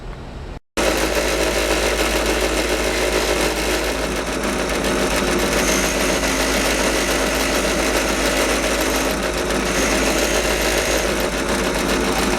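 A wire wheel on a bench grinder polishes rear axle parts from a Kawasaki Ninja 650R, giving a loud, continuous motor whir with a steady grinding rasp that starts abruptly after a short gap.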